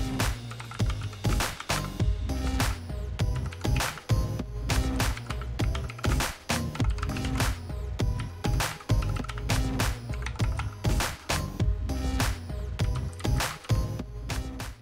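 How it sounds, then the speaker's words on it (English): Fast, dense typing on a Redragon K552 mechanical keyboard with Cherry MX Blue-like switches, a continuous loud clicky clatter of keystrokes heard alone and up close. "Underneath the keycaps, you'll find a Cherry MX Blue-like mechanical switch."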